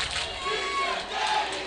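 Baseball crowd at College Station during a 5A regional semifinal playoff game against Friendswood, a sustained wash of cheering and shouting voices with many younger fans, steady and moderately loud throughout.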